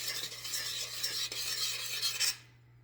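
Steady scraping and swishing of a utensil stirring a not-yet-boiling chocolate brittle mixture in a pot, continuous for a couple of seconds before stopping abruptly, with a low hum underneath.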